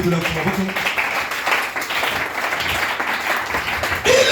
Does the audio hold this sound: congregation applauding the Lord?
yes